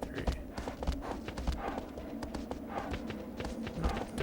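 Horse hooves clip-clop in the Shadow of the Colossus video game, a steady run of close, hollow strikes over a busy game soundscape.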